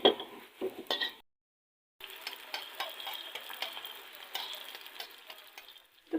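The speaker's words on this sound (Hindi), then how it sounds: "अब हम इसके अंदर भी थोड़ा सा ऑयल डालेंगे चम्मच के ज़रिए" Katori chaat dough cups, shaped on a glass, fry in hot oil with a soft, steady sizzle. Scattered spoon clinks and stirring noises sound close, a short silent gap breaks it early on, and no one talks.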